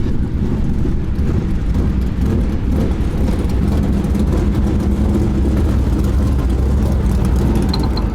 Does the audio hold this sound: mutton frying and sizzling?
no